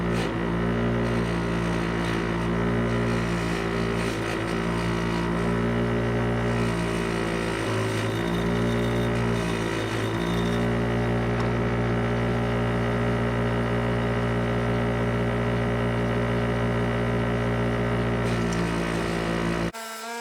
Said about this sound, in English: The old wire wheel.